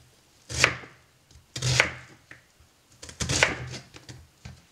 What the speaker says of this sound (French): Oignons, c'est plus facile. Je coupe comme ça, quoi.